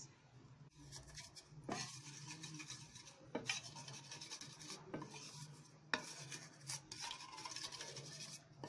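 Potash being sieved for cooking breadfruit (ukwa) in Imo State, a steady gritty rasping and scraping of powder through a mesh, with rhythmic shaking bursts and faint metallic pot contact, fairly quiet and close with no talk.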